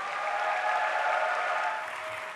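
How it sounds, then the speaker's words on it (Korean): An audience at a prayer meeting for peaceful reunification claps to welcome a speaker to the stage, a steady, even round of applause from a seated crowd with no break. "여러분 박수로 모시겠습니다."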